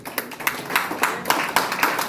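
A church congregation claps along in a quick, regular rhythm, a series of sharp, fairly close hand claps with no talking.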